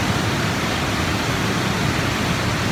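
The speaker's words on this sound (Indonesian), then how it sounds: "akhirnya bisa ke air terjun tertinggi di Lombok" Tiu Sekeper, the tallest waterfall on Lombok, pours out a constant dense rush of water, loud and near, holding level throughout with no speech over it.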